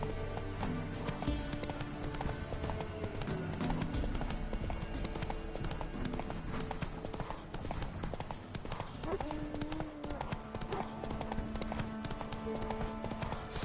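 Roach, the horse in The Witcher 3, gallops with a continuous pounding of hooves under game music and combat noise, with some speech-like sound mixed in.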